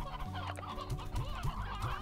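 Roostero chickens clucking in the video game Slime Rancher, a run of short, close, repeated clucks at an uneven rhythm with no talk over them.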